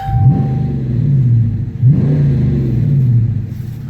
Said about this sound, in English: Let me give you a quick exhaust clip while I got you here.